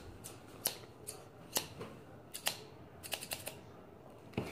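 Sharp, quick snips of scissors cutting through plastic packaging, irregular bursts with short pauses, close and fairly quiet.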